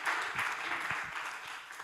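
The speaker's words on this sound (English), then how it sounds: "You shouldn't applaud yet" Audience applause at a circular-economy network's tenth-anniversary event, a dense steady wash of clapping lasting under two seconds at moderate level, with no clear speech over it.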